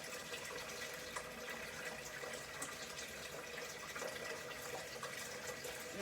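Tap water runs in a steady, faint hiss during handwashing before a medication draw, a continuous even stream with no talk.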